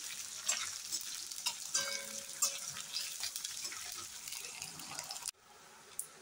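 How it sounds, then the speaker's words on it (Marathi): Chopped onion frying in a pan over a high gas flame while cooking cauliflower Manchurian: a steady, close sizzle with faint stirring scrapes that cuts off abruptly near the end, leaving only a quiet hiss. "हा जो चिरलेला कांदा आहे हा घालायचा आहे. हा थोडासा भाजून घ्यायचा आहे."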